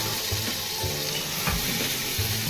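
Corn pieces are eased into hot oil and fry with a dense, continuous sizzle, broken by soft thuds as more pieces drop in, all close and fairly loud.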